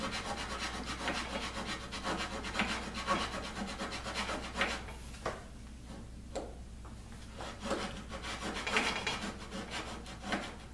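Hand saw cutting wood for a dart board cabinet, using short strokes near a dado mark, heard as a steady rasping back-and-forth rhythm up close with no talking.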